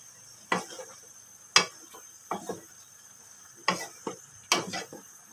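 Vegetables stirred in a cooking pan: five or six distinct clinks and scrapes of a utensil against the pan, close and clear, spaced irregularly over a quiet background.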